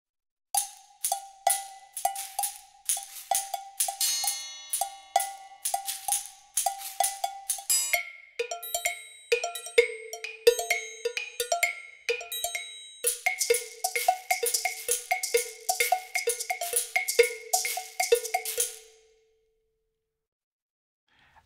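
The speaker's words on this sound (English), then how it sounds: "And just some metal and wood sort of sounds playing." Bright metallic bell-like hits and wooden knocks from South American percussion play in a steady, busy rhythm, layering into a dense percussion pattern before stopping abruptly.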